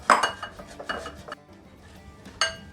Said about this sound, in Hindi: सबसे पहले एक बोल लेंगे, उसमें हम आलूओं को कद्दूकस कर देंगे।